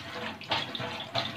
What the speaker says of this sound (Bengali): পানি দিয়ে দিয়ে এভাবে পরিষ্কার করলে শিং মাছটা একদম পরিষ্কার হয়ে যায়